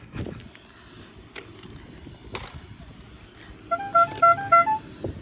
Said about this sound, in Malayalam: എടാ ഹോണടിക്കാൻ നിൽക്കണം.